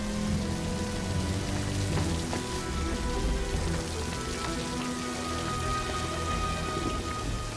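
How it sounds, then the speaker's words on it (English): Steady rain falling and pattering on surfaces nearby, a continuous even hiss with scattered drips and no voices. "Come on out of the rain now."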